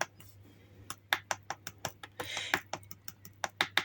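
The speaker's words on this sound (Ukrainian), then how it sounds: "Я ось так тримаючи, постукую по пакетику з закваскою." Rapid light tapping on a packet of starter culture, a quick irregular series of small dry taps close by, over a faint steady hum.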